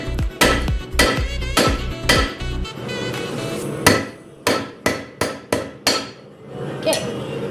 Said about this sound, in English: I'm just gonna use a nice rounded part here in my anvil, just to forge it down a bit more